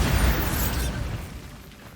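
Bombarda spell blast in the video game Hogwarts Legacy: a single loud, close explosive boom with a sharp burst that rumbles and fades away over about two seconds, with no voices.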